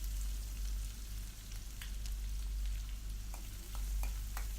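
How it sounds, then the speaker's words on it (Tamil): Onions with cinnamon stick and bay leaf sauté in a pan for channa masala, giving a steady, quiet sizzle with a few soft stirring clicks throughout. "வெங்காயம் நல்லா பொன்னிறமாக ஆகிற அளவுக்கு நல்லா வதக்கிக்கோங்க."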